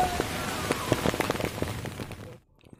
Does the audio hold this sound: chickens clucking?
no